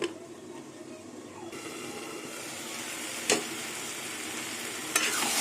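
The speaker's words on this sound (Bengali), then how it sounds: "দেখুন শাক কষাতে কষাতে তেল ফেলে দিয়েছি" Taro leaves cooked with prawns and whole garlic sizzle in an oily pan while being stirred, a continuous close frying hiss broken by two sharp clatters near the end.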